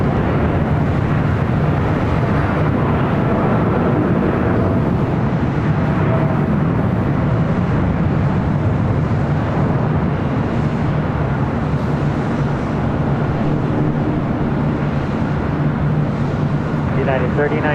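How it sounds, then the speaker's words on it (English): A United Boeing 787-10 Dreamliner bound for Tokyo Haneda taking off on runway 25 right at LAX, a loud, steady jet engine roar filling the whole stretch while a voice talks over it. "We got a United Dreamliner rolling down at 25 right."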